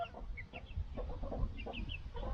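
Chickens clucking softly in a backyard run, a steady scatter of short, quiet calls repeating at close range with no talk over them.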